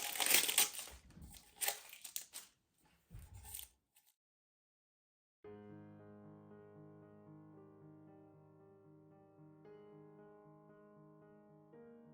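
Several layers of tape peel off a tumbler fresh from a tumbler press in a few close crinkly, tearing rips with short pauses. Then silence follows, and music starts.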